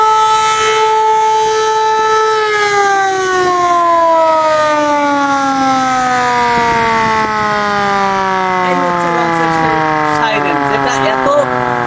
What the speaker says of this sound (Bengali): জোরে আওয়াজ হয়, সেই সাইরেনটা হচ্ছে এই ঘুরতেছে